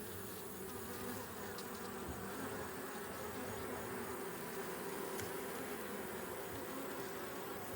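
Agitated Africanized honeybees swarm around their hive, producing a dense, continuous buzzing hum that stays steady and close throughout, with no talking.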